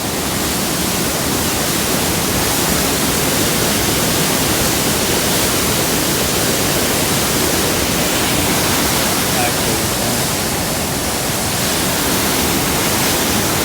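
A loud, continuous roar of water rushing out of a dam in Sutton, West Virginia fills the whole clip, steady and broadband with no breaks.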